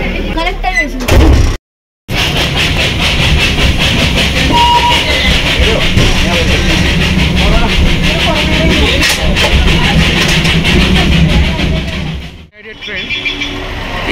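The Darjeeling Himalayan toy train departs Ghum station with a continuous loud rumble and clatter from nearby. A sharp slam sounds near the start, and a voice talks over the noise before it fades at the end.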